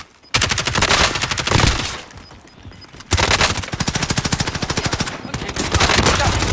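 Sustained automatic gunfire in Call of Duty Warzone during a Mini Royale match, loud and close, with two long rapid bursts split by a brief lull and a final stretch of dense shots.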